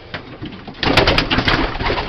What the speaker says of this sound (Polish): To są ostatnie gołębie z 2003 roku, jeszcze jakie były do nabycia.